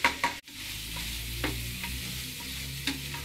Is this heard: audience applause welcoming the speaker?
no